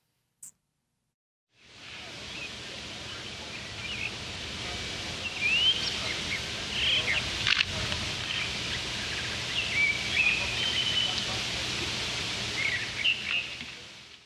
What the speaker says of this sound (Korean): 무슨 효과음처럼 정말 새소리만 정말 들렸습니다